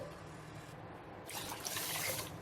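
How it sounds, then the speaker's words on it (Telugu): Water poured into a pot of washed, soaked rice for chicken biryani, a faint trickle that turns into a fuller, brighter splashing pour over the last second, heard alone and close. "ఇందులో నీళ్లు వేసేసుకోవాలి."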